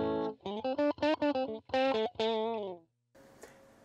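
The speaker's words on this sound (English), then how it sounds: "Now this is a typical 8-inch style Tweed amp." Electric guitar through a Line 6 Helix small Tweed amp model plays a quick, boxy lead phrase of separate picked notes, ending in a held note. A short pause and faint noise follow, with no talk over the playing.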